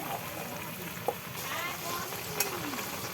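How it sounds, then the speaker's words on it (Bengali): Fried tilapia fish added to sizzling masala in a village kitchen pan, a low steady frying hiss with a couple of soft clunks, fairly faint. "এবার ভেজে রাখা মাছগুলো দিয়ে দিচ্ছে"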